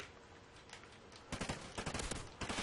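Burst-fire MSBS rifle gunfire in a Call of Duty game, heard as quick clustered bursts of shots that grow louder and denser toward the end, fairly faint overall, with no talking.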